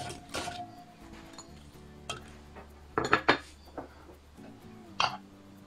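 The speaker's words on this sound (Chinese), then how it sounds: "先倒入苹果丁" Diced apple pieces tumbling into a food processor jar, a few scattered knocks and clatters with a quick cluster of rattling taps in the middle, all fairly quiet and close.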